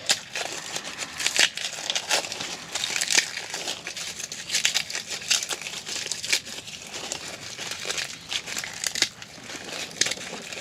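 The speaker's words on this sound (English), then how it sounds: "You don't have to remove the paper or anything else on them. Just get the cloves out." Dry papery crackling and crinkling as a garlic bulb is broken apart into cloves by hand for planting in a small greenhouse, a steady run of close crunches and snaps with no talk.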